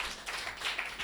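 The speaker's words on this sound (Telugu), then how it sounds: "కొట్టు చప్పట్లు గట్టిగా, ఇంకా గట్టిగా" A church congregation claps their hands in a brief burst of brisk, overlapping slaps, dense and close, with no pause between them.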